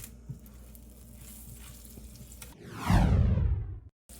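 Butter hits hot olive oil in a pan and bursts into a loud, rising sizzle with a sweeping hiss that fades after about a second, following quiet kitchen clatter.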